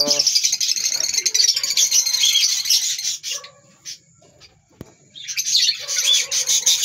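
African lovebirds in an aviary giving loud, shrill, rapid chirps and squawks close by, with a brief lull midway before the busy calling resumes.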